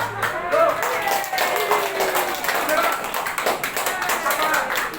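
Guests clap at a wedding right after the couple is pronounced husband and wife, a fairly loud run of overlapping claps with voices and crowd chatter underneath.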